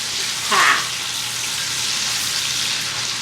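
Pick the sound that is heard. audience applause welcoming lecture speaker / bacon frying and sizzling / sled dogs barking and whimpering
bacon frying and sizzling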